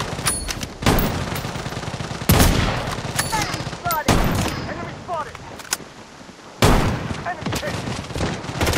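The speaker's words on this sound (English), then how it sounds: "Taking fire!" Gunfire rattles through a Blood Strike battle during a Christmas event, with rapid automatic bursts and several loud, abrupt volleys close by. The shots continue across the whole stretch, interrupted by short gaps.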